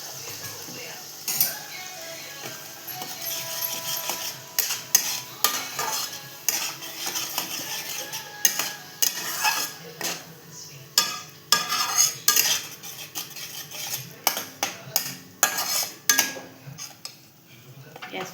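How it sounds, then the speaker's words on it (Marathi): Chicken masala being stirred and sautéed in a pan over a raised flame until the oil separates: repeated scraping and clinking of a utensil against the pan in uneven bursts, with a faint sizzle underneath. "तेल सुटेपर्यंत आपण परतवून घेते."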